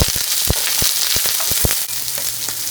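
Small onions sauté in a hot pan, a steady close sizzle with occasional sharper pops and crackles as they are stirred, no voices.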